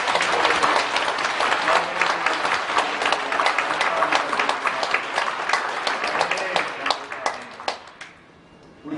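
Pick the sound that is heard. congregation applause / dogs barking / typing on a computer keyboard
congregation applause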